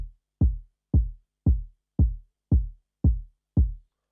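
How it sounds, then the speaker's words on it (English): Solo amapiano kick drum hitting eight times at a steady, even pace, each thump deep and punchy with a quick decay, loud and alone with no other sound. "Let me solo it. Let's listen to the kick alone."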